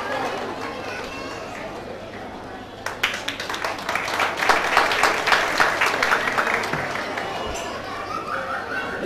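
An audience at a foundation event breaks into applause after a quieter stretch, the dense clapping building and then tapering, with chatter and some laughter mixed in and voices talking underneath.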